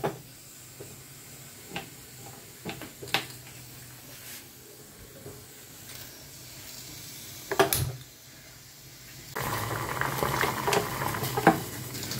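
Bengali curry gently bubbling in a pot on a gas stove, soft irregular pops and patter over low hiss, with a louder burst of sizzling toward the end.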